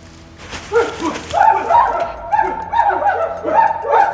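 Several people bark and yip in imitation of dogs, a chorus of human voices mimicking barking in uneven bursts, loud and close, as punishment in a corridor of a Korean juvenile detention centre.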